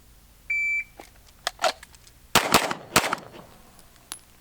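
A Gen 3 Glock 19 pistol fitted with a ZEV trigger, slide and internals, fired in a trigger pull test: a shot-timer beep, then a quick string of loud, crisp pistol shots at close range.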